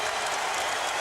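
Basketball arena crowd at the 2001 NBA Finals Game 3 in Philadelphia reacts to Dikembe Mutombo with a loud, dense, continuous roar of cheering that fills the whole moment with no pause.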